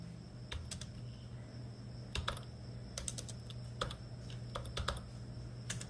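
Quiet typing on a computer keyboard: scattered, irregular key taps in small bursts over a faint steady hum, close but soft, with no talking.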